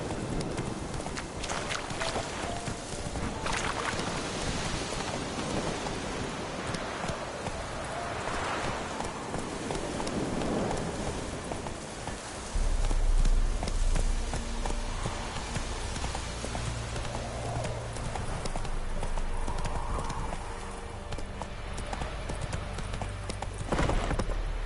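Roach, the horse in The Witcher 3, gallops with rapid rhythmic hoofbeats over a windy, rushing in-game ambience, the steady clip-clop running throughout.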